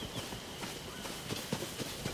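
Horse hooves clip-clopping in the video game Zelda: Tears of the Kingdom, a quiet and fairly slow series of soft hoof thuds over a low background.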